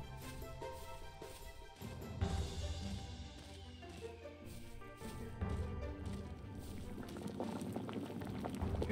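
Fish cooking in a cauldron in the Fishing Planet game bubbles with a soft, continuous boiling, gurgling and popping faintly throughout with a few small thuds, and no voices.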